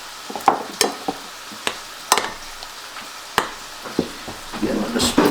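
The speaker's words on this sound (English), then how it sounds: "I'm going to start mixing this up." A spoon stirs a lasagna mixture in a pan, giving a series of sharp scraping clinks at irregular intervals, with a soft sizzle rising toward the end.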